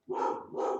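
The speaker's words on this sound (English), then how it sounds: "I'm really sorry about my dog." A dog close by gives two quick, sharp barks in succession.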